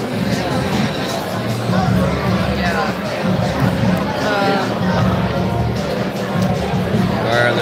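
A large crowd murmurs steadily at a packed campus event at CSULB, a dense unbroken babble of many voices filling the room at a constant, fairly loud level.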